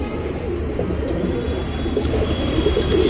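A pigeon offered for sale coos continuously up close, a low throaty murmur running steadily throughout with no talking over it.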